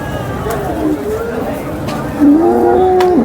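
A cow moos twice at a cattle market in Sangola, a short low call and then a longer, louder drawn-out moo, over the murmur of the crowd.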